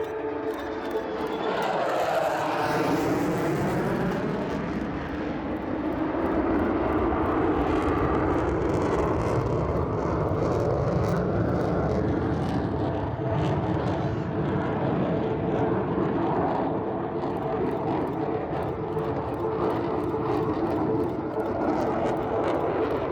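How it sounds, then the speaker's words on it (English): Loud, sustained roar of a fighter jet in full afterburner pulling a hard 6G right turn low over an airshow at Warnervale Airport, a continuous broadband rumble that swells and shifts in pitch as it passes, with no talk. "He'll put the jet in a right turn, put about 6G on the aircraft in max afterburner."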